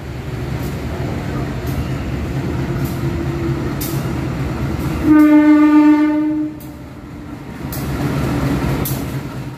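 The KA Pasundan passenger train rumbles steadily into Surabaya Gubeng station and sounds a loud horn blast for about a second, then the rolling noise continues.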